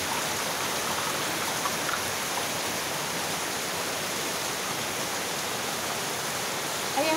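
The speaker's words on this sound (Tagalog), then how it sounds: "Hindi pantay ang ulan. Ayan, wala, grabe, lakas guys." Heavy night rain pours down in a dense, constant hiss of drops on surfaces, loud and unbroken for the whole stretch, with no talking.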